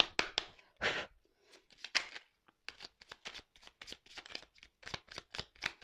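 Tarot cards are shuffled and drawn by hand, a quick series of close riffling and slapping bursts with short pauses between, crisp and nearby, no talking.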